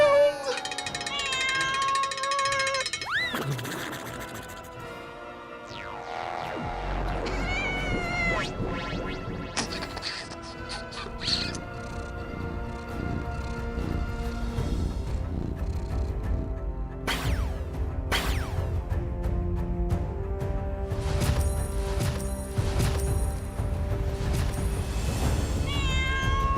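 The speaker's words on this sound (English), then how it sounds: "There's too many cats." Many cats meow over one another in a dense, overlapping chorus, with shrill rising and falling cries piling up steadily and loudly amid some mechanical clicking.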